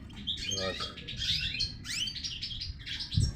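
Caged goldfinches chirp and twitter in quick, bright bursts close by, overlapping into a busy chatter over a low background rumble, with no talking.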